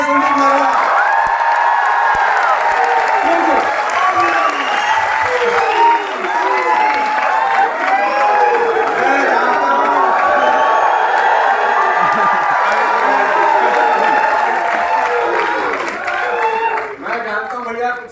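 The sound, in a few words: applause and cheering for Sandeep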